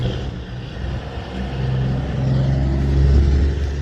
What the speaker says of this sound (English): There goes the cool truck.